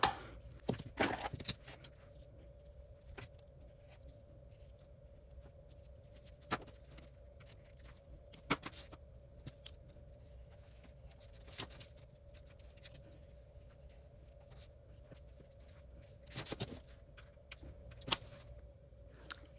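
Small fabric piece being cut for a keychain pouch: sparse scattered snips and light clicks of scissors or a cutter over a quiet steady hum, close and faint, no talking.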